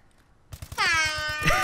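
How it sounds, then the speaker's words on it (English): A loud, blaring air horn in Call of Duty: Advanced Warfare bursts in after a few low thumps and holds steady for about a second, with a brief swell near the end. "hit me with the air horn"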